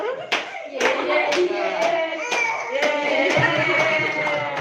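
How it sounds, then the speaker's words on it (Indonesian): Audience at a fun-games gathering in Puncak, Bogor, clapping in a steady rhythm of sharp claps about twice a second, with voices over the top throughout. "ini tepuk tangan kalau bisa kerahkan saja."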